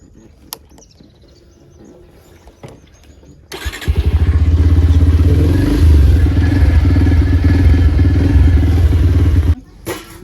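A motorcycle at a farm field starts up and idles with a loud, steady throbbing rumble for several seconds before cutting off, preceded by a few quiet clicks and knocks.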